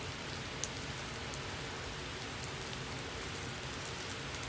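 Sliced onions sizzle in a hot wok, a loud, steady, rain-like crackle that holds throughout with no talking.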